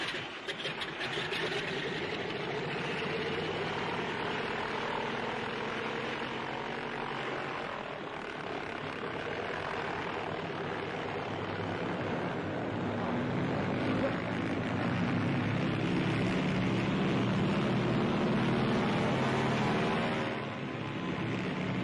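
Propeller aircraft engines drone continuously during a 1945 takeoff, a steady, dense roar that swells slightly toward the end, heard at a moderate distance with no clear breaks.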